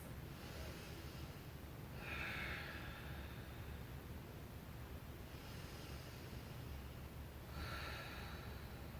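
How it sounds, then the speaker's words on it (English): Slow, deep breathing during a yoga stretch, with soft, airy inhales and exhales rising gently every few seconds over a steady hiss. "Deep breaths."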